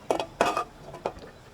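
A spoon stirs banana and sago in a cooking pot, striking the metal sides in three or four separate close clinks and scrapes spread over a second and a half.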